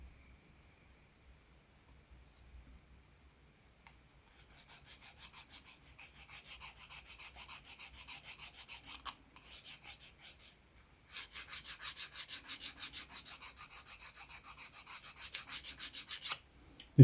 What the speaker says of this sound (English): because it is hardwood, so trying to sand it by hand is a non-starter really